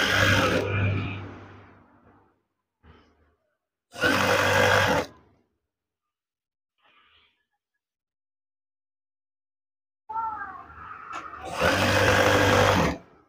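Sewing machine stitching in loud, steady bursts of about a second or two each, separated by quiet pauses, with one longer run near the end; no talk over the machine.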